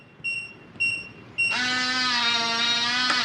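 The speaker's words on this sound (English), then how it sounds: "It should flash green, long beep at you, and you're done." Three short electronic chirps, then a sustained, loud buzzing beep lasting nearly two seconds from a Kwikset SmartCode deadbolt keypad close by.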